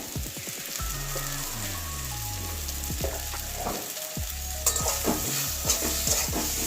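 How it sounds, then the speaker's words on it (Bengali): Bottle gourd leaf curry with potato, eggplant and lentil dumplings is stirred in a pan after turmeric goes in, soft scraping and bubbling sizzle under a tonal background hum, no talking. "ভালো করে নাড়িয়ে নেবো হলুদটা মেটিয়ে নেবো"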